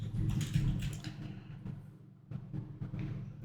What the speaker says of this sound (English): then we can go ahead and type the name